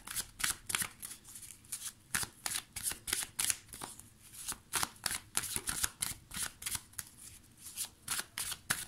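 Tarot cards being shuffled: a rapid run of crisp, close riffling bursts in a steady repeating rhythm, quiet and alone.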